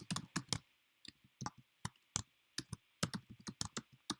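Quick bursts of typing on a computer keyboard, close and crisp, with irregular clusters of clacky keystrokes separated by short pauses and no speech.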